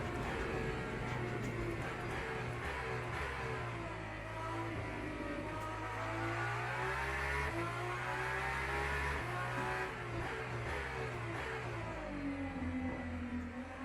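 A high-revving hypercar engine in a racing video game drones steadily throughout, rising and falling in pitch as it accelerates and shifts, loud and continuous with no voices.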